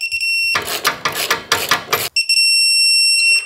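A torque wrench set to 35 to 40 foot-pounds, used on Harley suspension, gives a steady high-pitched electronic beep. Rough ratcheting rasps cut in partway, then the beep carries on clearly to the end.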